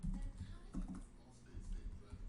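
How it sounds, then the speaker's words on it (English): Quiet keystrokes tap on a computer keyboard while entering code in Visual Basic 2015, faint and irregular beneath a speaking voice. "and I'm going to type in"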